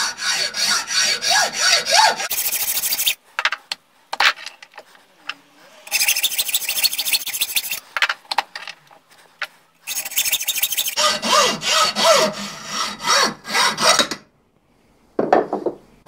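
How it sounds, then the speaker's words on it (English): A hand hacksaw cuts through a cast iron bar clamped in a vise, with loud, steady rasping strokes in three long bursts separated by short pauses, then a brief final scrape. "since I'm going to cut it by hand with a hacksaw"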